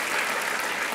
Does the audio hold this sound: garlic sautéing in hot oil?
no